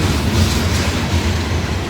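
Mixed manifest freight train moving slowly along the tracks, a steady loud rumble with rhythmic wheel clatter and faint squeal, close by and continuous, with no talk.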